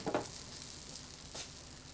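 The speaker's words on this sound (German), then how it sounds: "Ich dachte Ihnen schon in einer großen Pfanne 5 Dekagramm Butter zerlassen." Five dekagrams of butter melt in a large frying pan, giving a faint, steady sizzle with a couple of soft clicks from the pan, no voices.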